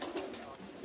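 Pigeons in a loft at Hassan Abdal, part of Ustad Mian Haseeb's birds: a short, close burst of soft throaty cooing notes against a faint background murmur.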